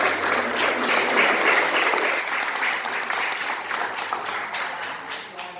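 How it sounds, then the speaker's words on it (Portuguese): A church congregation at a service claps together, a loud, dense burst of applause that slowly thins out. "Você pode dar uma salva de palmas ao Senhor?"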